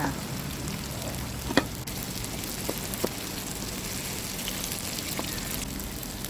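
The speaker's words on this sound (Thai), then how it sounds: "น้ำมันร้อนเราก็เอาเต้าหู้ลงไปทอด" Tofu frying in a wok of plenty of hot oil, with a continuous soft sizzle and crackle and a few sharp pops scattered through it.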